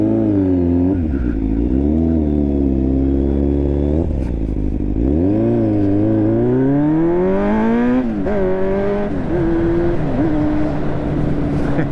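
Revving engine of a Yamaha Fazer 600 motorcycle, close and loud, repeatedly climbing and falling in pitch with several sharp blips and a rough, clattery idle between throttle pulls.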